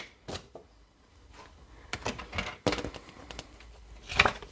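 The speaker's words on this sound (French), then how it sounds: "je coupe mon bout de papier blanc" Scattered crisp snips and rustles of white paper being cut for card making, a few sharp bursts at close range in a quiet room.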